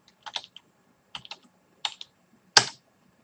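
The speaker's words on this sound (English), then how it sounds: "So we will go to the search bar and type in a currency pairing that we may be interested in." Short bursts of keystrokes as a currency pair is typed into a search bar on a computer keyboard, a few quick clusters of clicks ending with one louder tap, close and clear with no talking.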